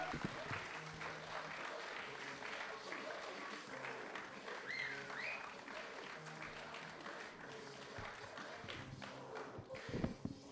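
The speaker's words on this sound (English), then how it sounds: "Start a round of applause." Audience applause welcoming a headlining comedian at a live comedy show, a continuous wash of clapping from a crowd, fairly distant, with scattered voices mixed in.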